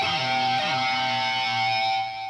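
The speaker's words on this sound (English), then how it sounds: "you're taking like your a blues lick, you know, playing two notes at the same time" Electric guitar plays a blues lick, two notes sounding together as sustained double stops, loud and close with no talking.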